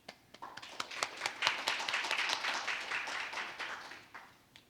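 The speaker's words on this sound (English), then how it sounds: "let's welcome him with a warm round of applause" A modest conference audience at the ASEAN-Korea Trade and Investment Roundtable 2024 opening ceremony gives a warm round of applause, scattered claps thickening into a brief steady patter that tapers off within a few seconds.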